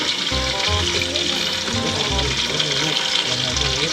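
Pork slices frying in a pan give a loud, steady sizzle and crackle that runs the whole time, with low thumps of handling beneath and faint voices in the background.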